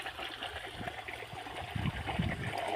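Water pouring from a pump motor outlet onto a sugarcane field, a steady splashing trickle with a gurgling gush building toward the end.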